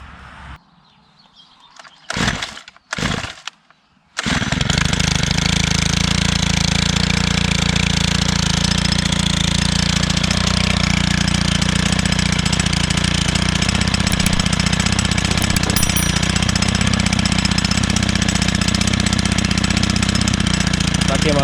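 A petrol-powered earth auger used for staking trees starts after a few brief bursts, then runs steadily and loudly close by for the rest of the stretch.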